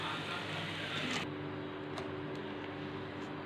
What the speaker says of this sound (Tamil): நம்ம மிக்சியில் இதுக்கு தேவையான மசாலாவை அரைச்சி எடுத்துக்கலாம்